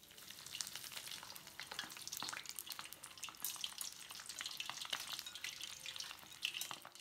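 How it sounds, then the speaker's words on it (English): Shrimp fritter with prawns and hot chili peppers frying in hot oil, a close, steady crackling sizzle with dense bursts of popping throughout. "Lower it into the oil carefully."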